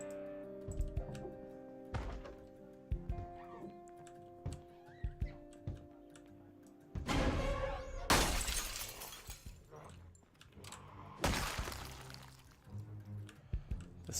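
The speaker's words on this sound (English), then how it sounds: "The smashed window is not like ideal because it's quite loud." A window smashes in Project Zomboid: after soft clicks and taps, two loud bursts of shattering glass ring out close and harsh, each followed by a short tail of falling debris.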